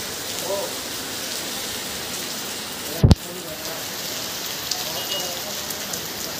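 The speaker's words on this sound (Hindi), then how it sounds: "बारिश का अभी रुकने का नाम नहीं ले रही है" Heavy rain pours steadily at an outdoor football venue in Khumulwng, a dense, continuous hiss of drops striking surfaces, with one brief loud knock midway.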